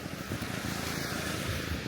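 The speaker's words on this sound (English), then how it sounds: "If you can hear that, that's a long-tail boat." A long-tail boat motor on a Bangkok canal roars as a steady, loud, rough drone with wind and water noise mixed in, sounding close throughout the short stretch.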